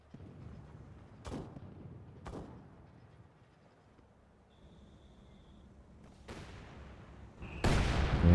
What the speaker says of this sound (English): Making a nice use of the heavy HE barrages